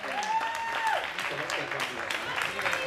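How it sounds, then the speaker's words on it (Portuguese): An audience at the Voz de Leiria karaoke final at the Feira de Leiria claps steadily for a fourth-place contestant, dense applause running throughout while a voice speaks over it. "Uma grande salva de palmas para a Amélie"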